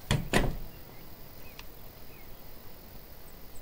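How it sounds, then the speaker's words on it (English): Lockpicking sounds at a door in the game Thief Simulator: two sharp metallic clicks close together at the start, then a faint single tick and quiet room tone. "Oh, don't mind me, I'm lockpicking your door!"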